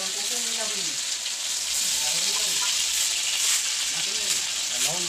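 Ginger, garlic, cumin and coriander paste frying in a pan for a kochu (taro) curry, a steady close sizzle with faint scraping of stirring, and a voice murmuring intermittently underneath.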